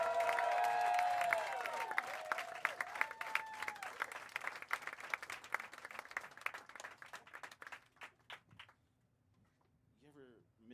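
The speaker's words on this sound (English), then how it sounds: "Really start clapping right now for your headliner tonight" A comedy club audience applauds and cheers as the headliner is brought on, a dense wash of clapping that thins into scattered claps and fades out, with a voice talking at the start.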